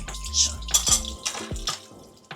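Dishes rinsed under running water in a home kitchen sink, with clinks and knocks of plates and utensils over a soft stream of water, close by and in short irregular bursts.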